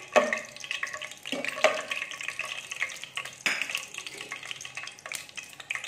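Bay leaves and garam masala roasting in a hot pan for chana dal gosht, with repeated close scraping stirs over a soft sizzle in uneven bursts.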